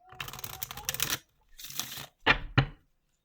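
A deck of cards shuffled by hand at close range, with two long riffling bursts followed by two short sharp snaps as the cards come together, no talking.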